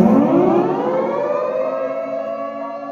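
A Dutch civil defense siren sounds during its monthly first-Monday test, a loud sustained wail with its pitch rising and then holding steady, with no voices.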